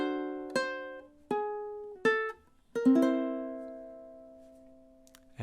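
Ukulele strums one measure of a song: four bright chord strokes spaced about a beat apart, the last one ringing out and sustaining, played solo with no voice.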